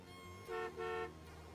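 Car horns honk over a low traffic hum, two short loud toots in quick succession standing out above steady road noise.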